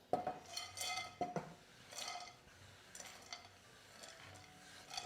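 Chopped nuts tipped into a non-stick pan, heard as light rattling and scraping knocks spaced irregularly, close and fairly quiet, with no talking.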